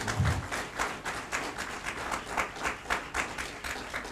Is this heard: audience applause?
yes